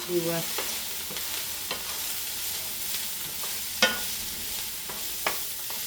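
Moose meat goulash with celery, onions and mushrooms is stirred with a spoon in a pan, giving soft scrapes and occasional sharper knocks against the pan over a steady low sizzle.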